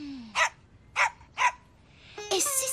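Three sharp, evenly spaced dog barks from a cartoon dog ring out close and loud over a quiet background, followed by a brighter burst of cartoon sound effects and music.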